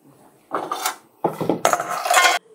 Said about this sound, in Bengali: একটু নাড়াচাড়া করে আমি এগুলো একটা পাত্রে খালি করে নিলাম।